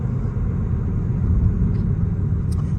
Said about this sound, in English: You will hear a little more road noise